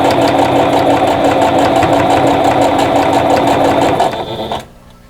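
Sewing machine running a seam at a fast even clatter, loud and close, slowing and stopping near the end with no voices over it.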